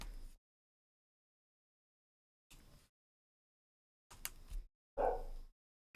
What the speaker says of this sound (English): I hear my puppy is barking.